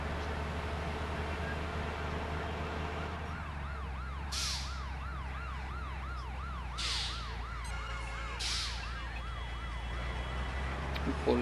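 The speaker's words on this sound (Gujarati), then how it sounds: "પોલીસની ગાડી પણ આગળ જઈ રહી છે." A police car siren wails with a steady rising and falling cycle on a wet cement road on a rainy day, heard from inside a moving vehicle over a constant low engine rumble, with a few louder bursts.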